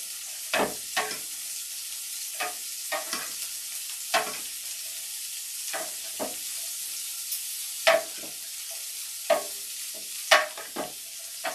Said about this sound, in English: I'm going to take a fork and a spoon and I'm going to toss this up